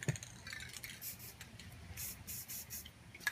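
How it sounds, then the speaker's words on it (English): Aerosol spray paint hissing from a can over a cap laid on the painting surface, a few short bursts close by with brief gaps between them. "Place your cap down and just spray over it."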